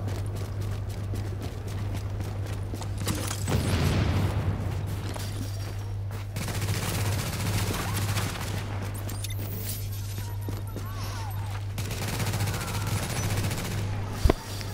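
Gunfire from a deployed turret in The Division, rapid bursts of shots over constant game background hum, with a sharp loud crack near the end.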